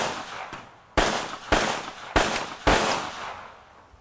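Rapid bursts of gunfire from a Masterpiece Arms Mini handgun at an outdoor range, four sharp loud cracks in close succession, each trailing into a short echo, with no talking.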